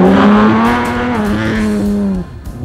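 A race car roars past on an ice track during a heat, its loud engine note holding steady and then dropping away as it moves off.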